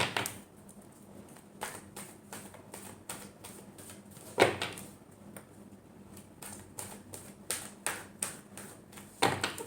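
Tarot cards shuffled by hand close up, giving a run of crisp, irregular flicks and taps that bunch into quicker clusters toward the end, with no talking.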